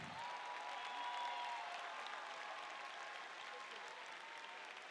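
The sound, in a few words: applause for the educators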